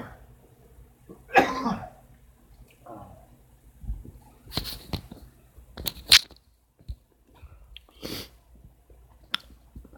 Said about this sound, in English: I've been feeling a little under the weather and been coughing a lot.